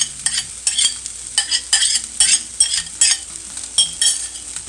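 Cooked white rice being stirred and scraped around a frying pan with ground beef and vegetables, rhythmic utensil scrapes over a soft sizzle, close and repeating about every half second.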